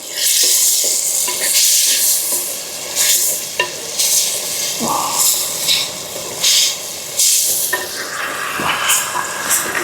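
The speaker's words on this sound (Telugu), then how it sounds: "ఇది కూడా మొత్తం వేసుకొని మొత్తం మనం బాగా కలిపెట్టుకుందాం." A spoon scrapes and stirs tomato curry with coriander powder in a hot pan, a busy sizzle with repeated scraping strokes running throughout.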